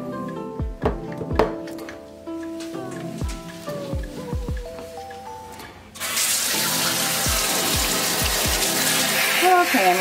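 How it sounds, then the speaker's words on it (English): Plinking, dripping knocks give way about midway to a sudden, steady rush of running water as a dog is rinsed during a bath, loud and continuous to the end. "Okay, I'm gonna go ahead and rinse her now."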